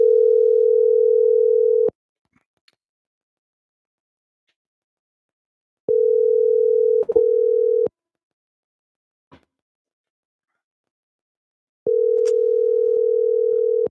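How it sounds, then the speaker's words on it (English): A telephone line tone sounds while a shop is being called: a steady, pure electronic tone in three evenly spaced two-second bursts separated by silence, loud and close with no talk. "sometimes Jenny will pick up the phone and let us know what they got"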